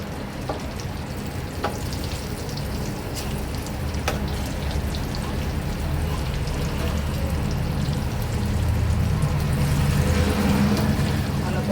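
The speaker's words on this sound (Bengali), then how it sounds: "উল্টে পাল্টে ভেজে নিতে হবে, একটু কড়া করে ভাজতে হবে" Eggplant slices frying in oil in a pan over a lowered gas flame, a steady close sizzle and crackle that grows slightly louder toward the end, with no talking.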